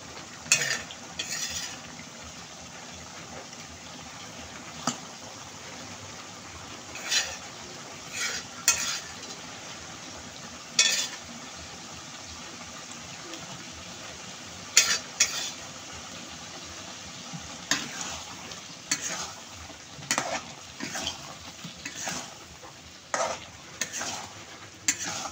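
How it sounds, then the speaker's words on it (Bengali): Fish roe fries softly in a pan with boiled potatoes while a utensil stirs it, making intermittent scrapes and taps over a quiet, steady sizzle. "মাছের ডিম দেওয়ার পরে একটুখানি রান্না করে নিতে হবে।"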